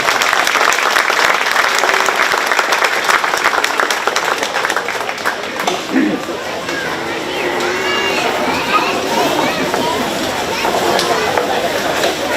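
Sustained audience applause at a county fair 4-H bottle calf show, dense and steady clapping from a crowd close by, filling the whole stretch with a slight dip midway, with a few voices mixed in.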